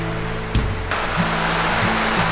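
A mountain stream on Jirisan, the upper reaches of Pagyecheon, runs with a steady, full rush of water. Low sustained tones hum faintly beneath it, and a brief splash-like burst stands out early on.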